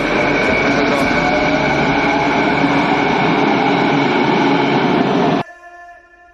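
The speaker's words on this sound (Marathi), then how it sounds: "सो आता ही मेट्रो आहे अंडरग्राऊंड" Underground metro train at Brighouse station, Vancouver: a loud, steady rumbling roar with rail noise fills the first five seconds, then drops off abruptly, leaving faint tonal hum.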